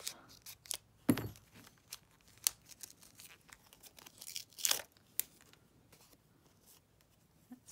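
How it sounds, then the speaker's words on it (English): Plastic wrapping torn and crinkled off a skein of embroidery thread, close and quiet, in a series of sharp rips and crackles with a louder tear near the start and again toward the end. "I suppose I need to take the plastic off."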